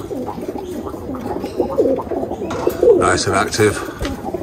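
Roller pigeons coo in a loft, a steady low burbling chorus throughout, with someone speaking briefly over the birds near the middle.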